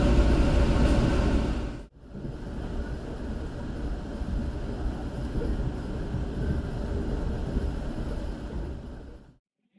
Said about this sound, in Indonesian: Tiba di stasiun Bekasi, di sini ada lokomotif CC203 nih